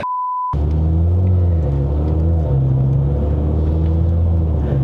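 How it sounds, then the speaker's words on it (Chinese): Turbocharged Mercedes-AMG C43 4Matic (W205) fitted with a Turbosmart blow-off valve, heard from inside the cabin: a steady, loud engine drone with a low rumble that rises and falls gently as the car cruises. "Turbo Smart Blow Off 的声音很大"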